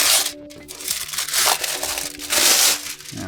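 Close, crackly crinkling of the paper wrapping from a Xiaomi Pad 7 tablet box being crushed and handled, in a few loud surges.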